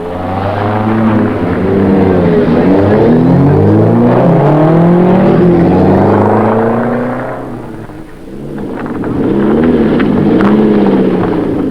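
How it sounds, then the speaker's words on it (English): Saab 900 Cabrio on a lap of honour at a sunny Cheshire race circuit, its engine loud and close, rising and falling in pitch as it passes, dipping briefly before swelling again. "The Saab 900 Cabrio certainly made an ideal lap of honour car on this sunny day in Cheshire."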